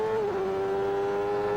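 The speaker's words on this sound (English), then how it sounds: "you can hear the engine revs go up" A 1993 Indy car driven by Nigel Mansell at Mid-Ohio, its engine holding a loud, steady high-revving drone with a slight dip and recovery in pitch, heard close from onboard.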